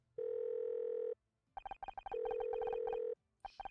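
A telephone in the video game Murder by Numbers dials a number: a steady dial tone, then a rapid string of touch-tone beeps, another long tone, and more beeps, clean and close.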